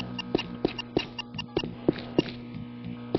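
A targeting beep in Doom played with an accessibility mod sounds when aiming at a shootable enemy: short, evenly spaced beeps pulse about three times a second over a low game hum, with no talking.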